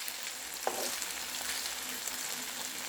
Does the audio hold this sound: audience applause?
no